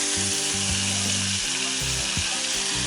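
About 600 grams of beef stir-frying in rendang seasoning sizzles loudly and steadily in a pan, with a rhythmic scraping and clanking of the utensil repeating throughout and no voices.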